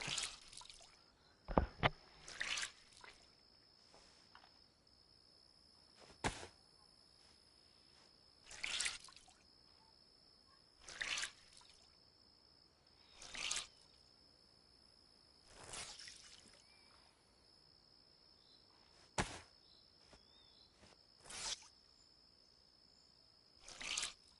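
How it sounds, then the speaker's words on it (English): Wet clothes wrung out by a survivor in the DayZ video game, heard as a series of separate squishy, dripping bursts spaced a few seconds apart, fairly close and quiet with little else between them. "Wring your clothes out."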